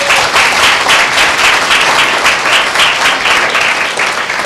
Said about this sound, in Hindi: क्या परमेश्वर के उपाय के लिए हम एक जोरदार ताली दे सकते हैं?